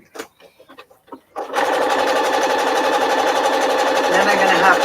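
A sewing machine runs steadily, stitching fabric for a zippered fat quarter project bag, a loud continuous whirring hum that follows a few short clicks and taps.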